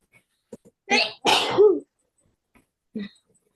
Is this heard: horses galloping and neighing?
no